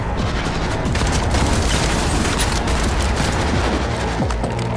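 Dense, continuous gunfire from a firefight in the video game Cyberpunk 2077, with rapid overlapping shots and booms forming a loud, unbroken barrage throughout.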